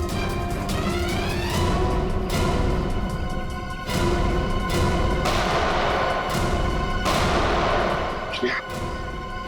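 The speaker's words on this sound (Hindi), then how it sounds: "वहां से चल रही है गोलियां।" Repeated loud gunshots crack in close succession over a steady roar of background noise, with sharp bursts spaced irregularly across the stretch, in a jungle firefight.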